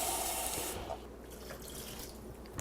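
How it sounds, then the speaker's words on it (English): Water is poured into an Instant Pot pressure cooker in a kitchen: a short splashing pour at the start, then quieter trickles and drips. "Let me add my last cup of water."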